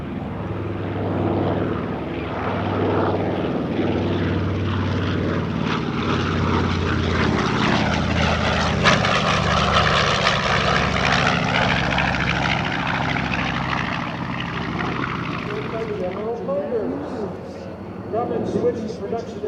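A B-25 Mitchell bomber roars by overhead at the 2024 Dover AFB air show, its engine drone swelling and shifting in pitch as it passes, with crowd noise and commentary faintly beneath.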